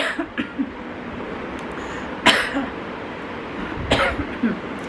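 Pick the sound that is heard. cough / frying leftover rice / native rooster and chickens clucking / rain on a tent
cough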